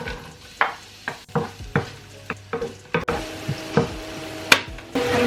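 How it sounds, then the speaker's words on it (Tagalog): Onions hit a hot, lightly oiled pan and sizzle close up, with repeated scraping stirs and clacks of a utensil against the pan at an uneven rhythm, no talking. "let's just add the onions"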